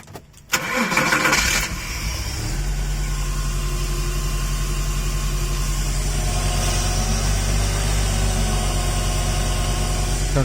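A Porsche 986 Boxster engine, fresh from an IMS bearing replacement, cranks briefly, catches with a burst, then settles into a steady, close idle that runs on alone.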